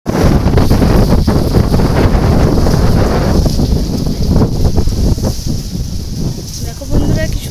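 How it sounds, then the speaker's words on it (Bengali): Strong wind buffets the microphone throughout on a cool afternoon outdoors, a loud, continuous rumbling roar that dips slightly midway, with no voices rising above it. "দেখো বন্ধুরা কি সুন্দর হাওয়া দিচ্ছে বিকেলবেলা।"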